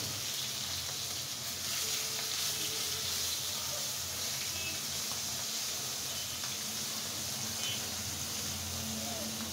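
Fish frying in a pan, a continuous close sizzle with faint clatter and a voice talking over it.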